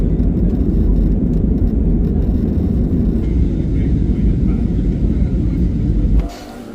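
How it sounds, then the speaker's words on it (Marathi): Loud, constant cabin roar and rumble inside an IndiGo airliner as it lands and rolls along at Hyderabad airport, continuing steadily before dropping off sharply near the end. "हैदराबाद एअरपोर्टला आता आपण उतरलोय आणि जातोय पुढे"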